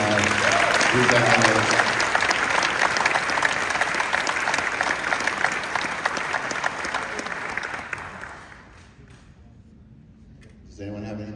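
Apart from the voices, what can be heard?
audience applause for George at convention panel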